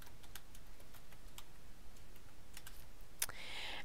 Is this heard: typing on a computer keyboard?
yes